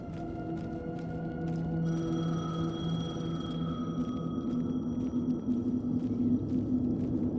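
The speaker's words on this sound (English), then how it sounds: "The payphone was ringing." A payphone rings in Alan Wake 2, a steady electronic tone repeating over a low ambient rumble, with a brighter layered ring that swells in partway through and then fades back to the persistent tone.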